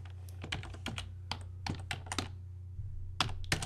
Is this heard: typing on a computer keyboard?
yes